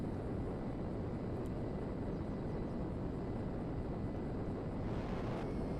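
F-16 jet in GTA 5 taxiing, a steady broadband engine roar with wind-like rumble holding at even loudness throughout, no voices over it.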